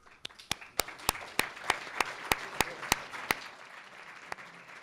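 Applause from a crowd, with a few loud sharp claps standing out over a softer wash of clapping that fades toward the end.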